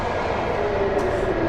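Steady rumble of a train riding along its rails, a continuous close broadband roar with rail noise throughout and no voices.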